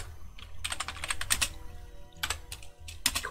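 Quick clusters of close, crisp keystrokes on a computer keyboard, with short pauses between bursts and no voices.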